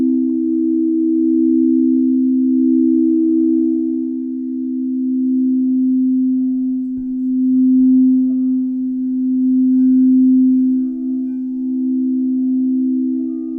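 Frosted crystal singing bowls from a three-bowl harmonic set ring together in one pure, sustained tone, loud and steady, gently swelling and fading, with nothing else heard.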